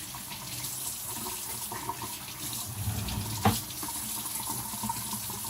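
Tap water runs steadily into a kitchen sink while produce is rinsed under it, a close, even splash with a brief louder splash partway through and no talking.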